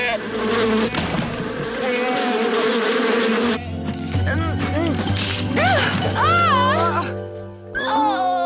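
A bee-swarm buzz made with a resonant box on a talent-show stage: a loud, dense insect-like drone whose pitch swoops and wavers, stopping briefly midway before resuming with sharper bending tones.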